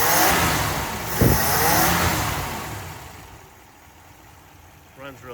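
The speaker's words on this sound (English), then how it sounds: "I'll rev it up here one more time." A 1959 Ford Galaxie Town Sedan engine revs loudly up close in the first half, then settles back toward a quieter idle, with a brief spike near the end.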